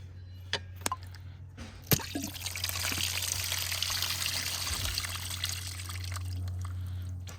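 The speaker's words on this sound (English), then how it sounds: "they all drain into this one right here. The main vein of the coolant." Coolant trickles and drains out of a 65cc dirt bike engine during a top-end rebuild, a steady soft liquid pour following a few sharp clicks and knocks, with a low hum underneath throughout.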